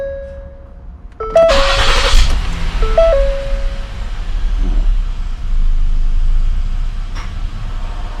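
A Ford Explorer engine idles roughly with a loud, close, continuous low rumble that swells and sags, while a few short electronic chime tones sound near the start.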